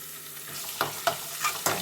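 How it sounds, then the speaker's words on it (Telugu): Ginger garlic paste is stirred as it fries in a pan for a soya chunk curry, with a steady soft sizzle broken by a few distinct scraping strokes of the spoon, close and moderately quiet. "కొంచెం కలుపుకోవాలి పచ్చి వాసన పోయే వరకు కలుపుకోండి"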